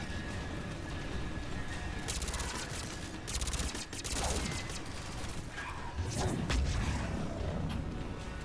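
Bursts of cover fire crackle through a Mass Effect 3 battle, with rapid volleys and sharp impacts scattered over a rumbling background, loud and close.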